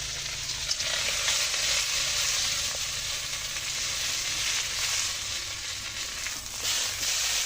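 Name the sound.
puti fish frying in oil in a pan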